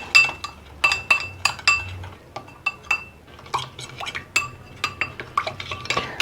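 A spoon mixes vinegar and soy sauce in a bowl, clinking repeatedly and briskly against the sides, with bright, close, irregular taps over a soft stirring sound.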